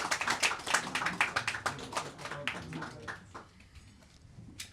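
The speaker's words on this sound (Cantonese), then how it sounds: "咁俾啲掌聲歡迎雙方嘅主婚人啦" Wedding guests give a round of applause to welcome the hosts: a dense patter of many hands clapping that thins out and fades over the last couple of seconds.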